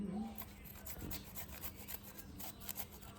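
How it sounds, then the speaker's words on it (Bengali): Ginger is scraped against a hand grater while preparing desi chicken, giving soft rhythmic rasping strokes, close and fairly quiet. "আদা গ্রেট হয়ে যাচ্ছে এখানে"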